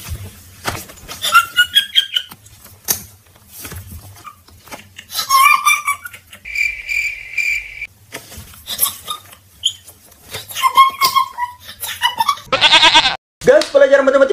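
Sheep or goat bleating in a comedic short, with wavering, tremulous cries surfacing now and then amid near constant talking.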